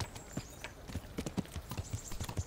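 Horse hooves clip-clop steadily at a quick walking pace in the medieval video game Kingdom Come, a soft, even rhythm of dull thuds over faint background ambience.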